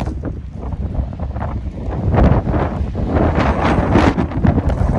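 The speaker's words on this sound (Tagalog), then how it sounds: "Lakas ng hangin." Strong wind during a snow squall at an outdoor work site in Edmonton, loud gusty buffeting and roaring across the microphone, building in force partway through, with no voices heard.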